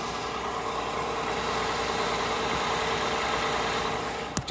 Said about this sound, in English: car's making a little bit of funky noises.